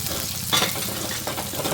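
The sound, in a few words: onions frying in oil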